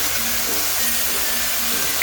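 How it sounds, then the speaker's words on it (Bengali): Mustard and green chilli masala with okra and neem hisses in a hot pan as water goes in, a steady, close sizzling hiss running unbroken for the whole moment. "পরিমাণ মতো জল দিয়ে দিলাম।"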